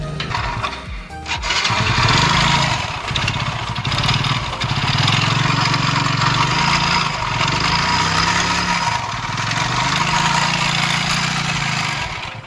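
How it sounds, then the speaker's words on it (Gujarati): A motorcycle engine in very poor condition, due for a complete rebuild, runs loudly and close up with a rough, steady drone after a brief start at the beginning. "એન્જિનનો અવાજ પણ હું તમને સંભળાવી દઉં"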